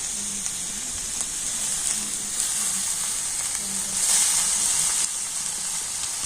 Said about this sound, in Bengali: এখন আমি ভাতের সাথেও সব কিছু একটু ভেজে নেব